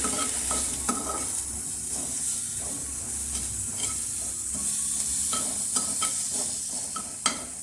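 Fried rice vegetables seasoned with salt and red chili are stirred in a sizzling pan, a constant frying hiss broken by repeated scraping and clinks of the spatula, close and steady without voices.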